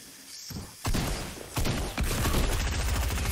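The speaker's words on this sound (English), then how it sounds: "Oh, we got a sniper on us." Heavy gunfire in the Fortnite video game during a sniper encounter, with dense overlapping shots and impacts in several loud bursts forming a continuous chaotic barrage.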